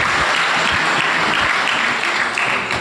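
Loud, sustained applause from an audience at a West Coast Red Cross branch summer camp event, steady clapping filling the whole stretch without pause.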